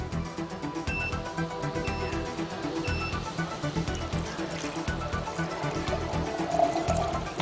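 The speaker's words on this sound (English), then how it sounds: "I'm going to fill it up with 150 cc's of regular tap water" Regular tap water runs steadily into a beaker, filling it to about 150 cc, a continuous splashing stream heard close and alone throughout.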